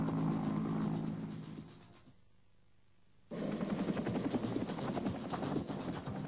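A Vietnam War–era helicopter flies past with a loud, steady rotor roar and broadband engine noise that briefly drops away, then returns strongly and continues; no voices.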